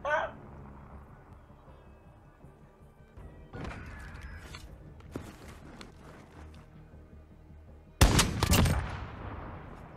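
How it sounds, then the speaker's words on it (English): Semi-automatic sniper rifle gunfire in a multiplayer shooter video game: a few sharp shots stand out, with a loud, dense burst of fire near the end over a steady game backdrop. "Semi-automatic sniper rifles, I tell ya."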